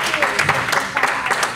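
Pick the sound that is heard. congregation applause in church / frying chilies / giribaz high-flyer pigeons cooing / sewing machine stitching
congregation applause in church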